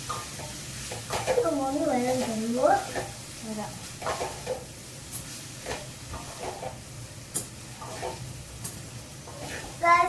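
Cooked noodles are tipped into a hot pan and stirred, giving sizzling and scraping under a voice talking throughout, with intermittent clatter.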